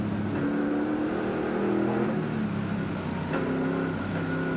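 A 1995 touring car at the Sandown round, its engine accelerating hard and shifting through the gearbox, a loud continuous roar that steps between gears without a break.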